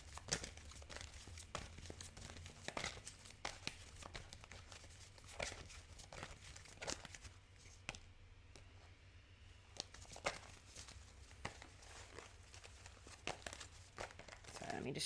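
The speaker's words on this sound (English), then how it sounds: "let me just shuffle these up a little more" Soft, continuous riffling and crinkling of tarot cards being shuffled, with frequent light snaps and flicks, close and quiet throughout.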